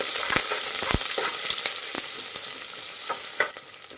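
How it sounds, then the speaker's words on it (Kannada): Chopped onions fry in hot oil in a pan while making pudina rice, a steady close sizzle with occasional stirring scrapes and taps, and no talking. "ಈರುಳ್ಳಿನ ಫ್ರೈ ಮಾಡಿ"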